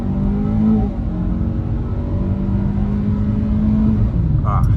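A 2022 Kia Forte LXS in sport mode accelerates from a standstill at full throttle, its engine a steady, droning rising hum heard from inside the cabin.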